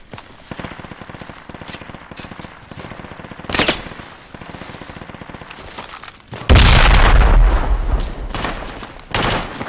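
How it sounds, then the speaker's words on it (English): A frag grenade detonates on trenches in the battlefield game Project Reality, one heavy, close blast breaking through steady rattling gunfire and scattered shots, then a long rumbling roar that lingers to the end. "I'm gonna frag them."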